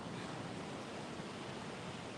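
Ocean surf at Fort Morgan Beach in Alabama on a windy day roars as a continuous broad wash of breaking waves, steady and fairly quiet, with wind noise blended in and no voices.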